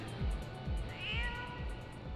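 A cat in the game Final Fantasy XIV gives one short meow over a looping, rhythmic backdrop of game music.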